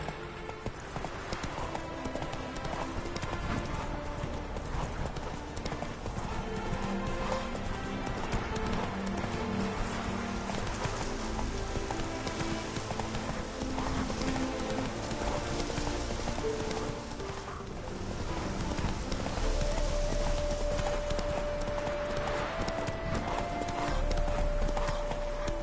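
Roach, the horse in the video game The Witcher 3, gallops with a steady, rapid clip-clop of hooves over a continuous bed of game music, and a brief whinny rises near the end.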